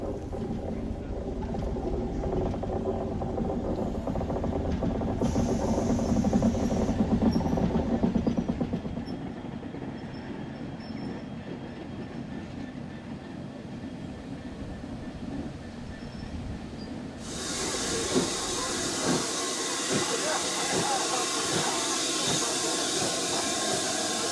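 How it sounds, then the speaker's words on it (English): A steam train rumbles and clanks slowly over track, crossing from Network Rail onto heritage railway track, with a hiss of steam, fairly distant and steady, ending in a brighter rushing noise. "Crossing over the link from Network Rail to RVR track."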